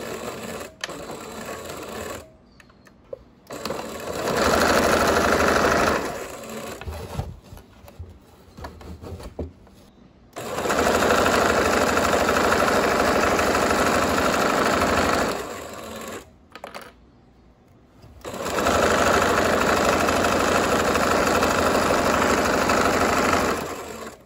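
A sewing machine stitches fabric for a pair of shorts, running in three long, loud, steady bursts of rapid mechanical whirring with short pauses and handling noises between them, and no voices.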